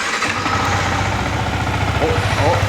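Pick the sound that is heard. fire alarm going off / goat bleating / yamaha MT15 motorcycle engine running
yamaha MT15 motorcycle engine running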